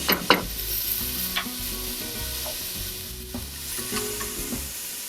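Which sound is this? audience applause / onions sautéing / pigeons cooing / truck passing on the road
onions sautéing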